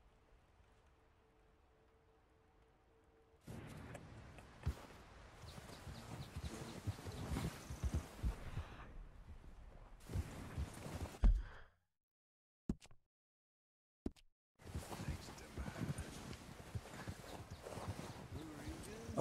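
Horse hooves clip-clopping at a steady walking pace in Red Dead Redemption 2, fairly close, with a short silent break partway through before the steps resume.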